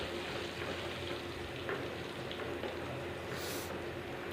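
Steady, soft sizzling of spices, including crushed red chillies, frying in hot oil as a tadka for dal makhni, a continuous crackling hiss with no voices.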